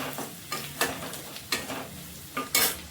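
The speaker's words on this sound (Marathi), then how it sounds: "मसाले मस्त मिक्स करून घ्यायचे आहे." Spices and oil are stirred in a pan for a vegetable dish, with a soft sizzle under repeated scraping strokes of a spoon against the pan at an irregular rhythm, close and fairly quiet.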